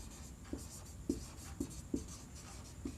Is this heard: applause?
no